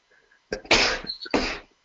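A single close sneeze: a quick inhaled catch followed by a sharp, explosive burst and a short trailing exhale, in an otherwise quiet room.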